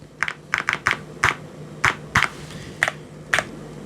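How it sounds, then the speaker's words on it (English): Keys on an MSI Forge GK600 TKL wireless mechanical keyboard tap out a run of crisp, separate clicks, close to the mic with uneven gaps and nothing else over them. "does give you that click sound as well from the keys"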